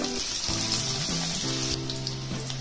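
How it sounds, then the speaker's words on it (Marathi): Onion dropped into hot oil already crackling with mustard seeds and half a spoon of cumin for a Kolhapuri mixed-vegetable curry, giving a steady close sizzle and hiss with a few louder pops. "त्यामध्ये मोहऱ्या टाकायचे, जिरं घालायचं अर्धा चमचा, आणि आता कांदा घालून घ्यायचा"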